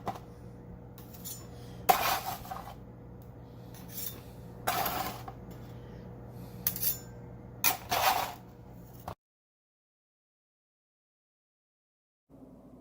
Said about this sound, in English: We're going to put them onto our cooling rack so that they can cool down before we eat them as a delicious snack